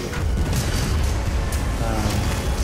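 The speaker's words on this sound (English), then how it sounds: "Lots of explosions." Explosions and booming gunfire in the video game Armageddon: Da Orks, a dense, continuous rumble of overlapping blasts with sharper bursts, loud and sustained throughout.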